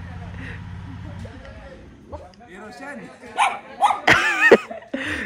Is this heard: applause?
no